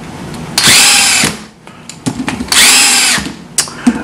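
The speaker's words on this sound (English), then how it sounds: "So I'm just drilling these holes." A power drill bores holes for mod coils in two loud sustained bursts close to the microphone, each trailing off, with small clicks and handling knocks between them.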